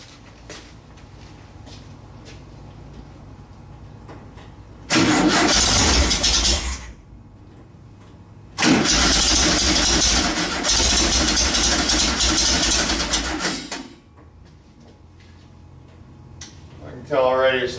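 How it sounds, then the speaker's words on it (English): Car engine cranking and catching in two loud bursts, each running rough for a few seconds before stumbling and dying without throttle, with quiet gaps between the attempts. "I can tell already it's not going to run unless I hit the gas, and I can't start it and hit the gas."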